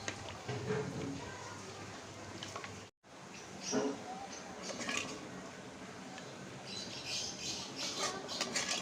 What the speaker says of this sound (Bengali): চুলা থেকে নামিয়ে নিয়েছি এখন এই হাঁড়িটাতে ট্রান্সফার করব